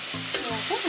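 Banana flower curry in a pan is stirred through a dense, continuous sizzle, with a couple of soft scraping strokes close by and no talking.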